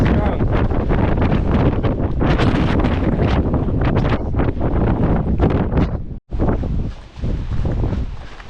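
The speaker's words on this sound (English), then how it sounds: "walking is difficult. Just because the wind is" Strong wind buffets the microphone during a walk outdoors, a loud, continuous rumbling roar with gusty surges and one brief dropout near the end.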